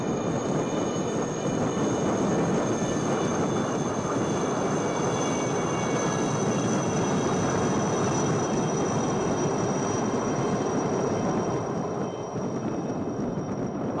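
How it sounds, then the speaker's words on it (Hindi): Six Chetak helicopters fly in diamond formation over a naval fleet review at Visakhapatnam, a loud, steady engine and rotor drone that holds without a break and carries a thin high whine. "Coming up next are 6 Chetak helicopters from the 321 flight in a diamond formation."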